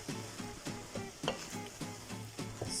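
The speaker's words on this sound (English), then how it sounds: "So the curry has been cooking for a few minutes with the onions and the oil" Curry frying with onions in oil in a pan, sizzling steadily while a utensil stirs in a regular rhythm of soft scraping pulses, close and quiet.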